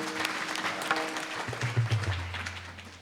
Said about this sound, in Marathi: एकदा जोरदार टाळ्या वाजवायला.